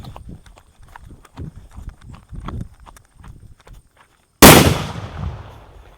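Quiet crackling and footsteps, a short silence, then a single sharp, loud blast from a deluxe Diwali firecracker bomb at night, ringing out and decaying over a couple of seconds.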